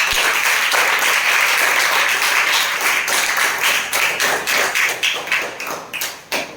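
Students in a classroom assembly applauding loudly together, a dense continuous wash of clapping that starts full and thins toward the end into distinct, sharper individual claps.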